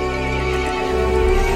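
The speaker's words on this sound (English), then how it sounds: "The horse grew angry and summoned the other monsters." A horse whinnies loudly and steadily over a low, constant background drone in Resident Evil Village, a single sustained neigh with a game-like, processed quality.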